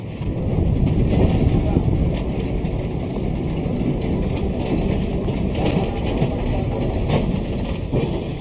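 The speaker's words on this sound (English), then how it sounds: "the whole train is heading across the Tyne to turn around" A continuous loud rumble of a train rolling across a bridge over the River Tyne, mixed with heavy wind buffeting, steady throughout with no clear breaks.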